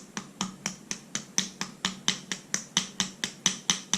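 Small hammer tapping a straight razor's pivot pin against a metal surface, a steady series of about a dozen sharp, close metallic taps at an even rhythm, with no voices.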